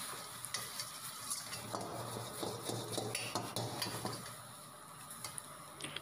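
Egg bhurji is stirred in a hot pan in hotel style, a quiet sizzle broken by repeated scraping and clinking of a spatula against the metal.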